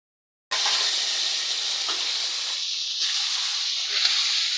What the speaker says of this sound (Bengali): এইভাবে তেল দিয়ে যদি ভেজে নেওয়া যায় ফুলকপি খুব খেতে মজা লাগে